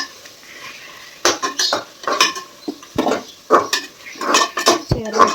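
Quail pieces tipped into a metal cooking pot at a village outdoor kitchen, heard as a string of close, sharp clanks and scraping stirs against the pot, with no talking.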